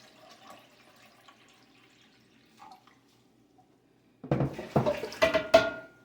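Two cups of water poured into a pot, starting abruptly after quiet handling noises, a loud, splashy stream close by with no talking.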